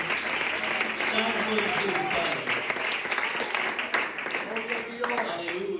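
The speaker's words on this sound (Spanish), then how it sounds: "Un aplauso al Señor en esta tarde." Congregation applause at an evening church worship service celebrating International Bible Day, steady clapping throughout while a voice sings or speaks over it.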